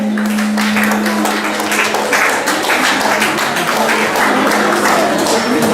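Quiz winners at a cultural day in Itsandra Mdjini receive dense audience clapping with uneven bursts, continuing steadily throughout.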